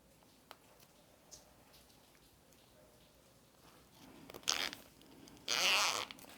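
A zipper on a handmade baby toiletry bag is pulled in two quick zips near the end, close and crisp, after faint taps and handling noises.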